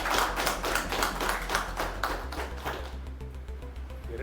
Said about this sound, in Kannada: ಅದಕ್ಕೆ ನನ್ನ ಮತ್ತು ನಿಮ್ಮ ಕಡೆಯಿಂದ ದೊಡ್ಡ ಚಪ್ಪಾಳೆ ಬರಬೇಕಾಗಿದೆ.